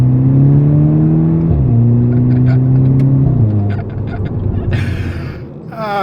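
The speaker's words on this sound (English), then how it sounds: "This one has a cut delete, you know, it's a decut. Let me do a small gear 2 pull." A decatted 2012 VW Golf GTI Mk6 pulls hard in second gear, its engine note rising steadily with loud exhaust drone, a shift and a fresh climb, then easing off near the end.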